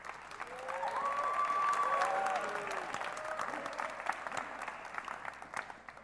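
Audience applause at a high school scholarship ceremony, a steady wash of clapping that swells early and slowly tapers off, loud and close, with a few brief tonal sounds over it.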